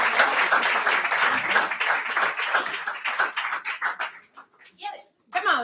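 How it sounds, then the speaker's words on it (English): Warm round of applause from a pub poetry-night audience for a poet, dense clapping for about four seconds that thins into scattered claps, then a brief voice near the end. "Make a warm round of applause for Jesse."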